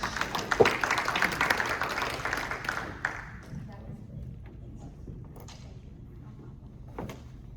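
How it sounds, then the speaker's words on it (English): Audience applause at an industry conference, a clapping burst that fades over about three seconds into quieter room noise with a few scattered sounds. "We can get a round of applause for Ari."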